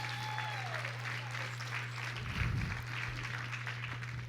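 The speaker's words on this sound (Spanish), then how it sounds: "Dale ese fuerte aplauso a Dios." A church congregation applauding during a sermon, a steady broad patter of many hands clapping at moderate volume with a constant low electrical hum underneath and a faint tone at the start.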